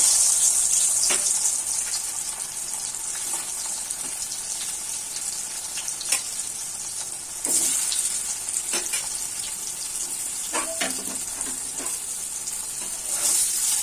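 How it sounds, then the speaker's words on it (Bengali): Boiled potatoes fry in the same hot oil used earlier for eggs, making a loud, constant sizzle close by, broken now and then by sharp clicks and scrapes of a ladle turning them. "এখন আমি এই একই তেলে এই সেদ্ধ করে রাখা আলুগুলো একটু ভেজে নেব।"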